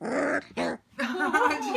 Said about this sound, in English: Bark, are you gonna bark?